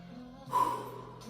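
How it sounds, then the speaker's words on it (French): A single deep breath is drawn in during a Tabata workout cool-down, a short audible inhale over quiet background music. "Et prends une grande inspiration."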